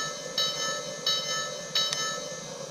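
A Lionel LionChief A5 toy locomotive's small electronic bell rings in a steady repeating pattern, three or four clear dings spaced evenly over a faint background hum.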